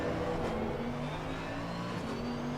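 Porsche 935 GT2 race car in a sim racing game, heard from outside: a loud, steady engine drone with a rough exhaust note, shifting pitch slightly as it holds and then changes revs, with no one speaking.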